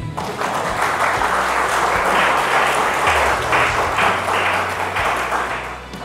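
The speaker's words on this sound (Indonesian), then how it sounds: "Ada tepuk tangannya nih" Steady, full audience applause at a talk, many hands clapping continuously at fairly loud level for several seconds with no voices over it.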